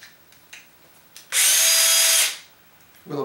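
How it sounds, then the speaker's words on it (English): A power drill runs during a DICE 3D printer build, one loud, close, whining burst of about a second that starts and stops abruptly, with faint handling clicks before and after. "I'm going to pop this in the drill."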